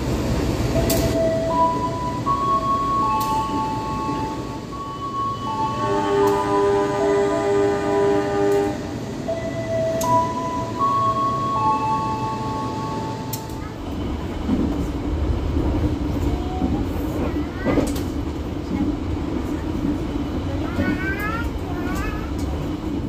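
A CC 03 locomotive hauling two ballast wagons on an Indonesian line near Manonjaya, with rumbling rail noise and repeated tonal horn blasts, loud and close, then fading rumble with squealing wheels.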